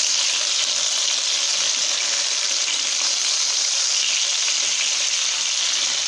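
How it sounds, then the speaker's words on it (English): Hamburger steaks sizzle in a frying pan just after being flipped, a steady, loud, unbroken hiss of frying fat that holds an even level throughout, with no voices. "So we're going to go ahead and give our burgers a flip."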